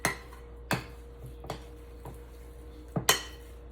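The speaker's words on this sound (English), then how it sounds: "I'm just stirring this all together" A spoon working through beer bread batter in a bowl, giving a handful of faint, irregular clinks and taps against the bowl's side over a quiet background.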